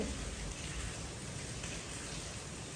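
Steady rainfall, a dense even hiss of drops that continues without a break from start to finish, with no voices.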